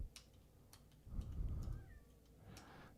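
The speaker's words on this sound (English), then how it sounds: "Oh, my poor cat." A cat lets out a single drawn-out, quiet meow indoors, with faint ticking sounds in the background.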